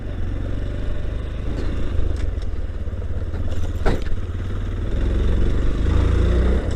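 A motorcycle being ridden, its engine holding a steady mid-pitched drone with rushing wind noise, close and continuous throughout.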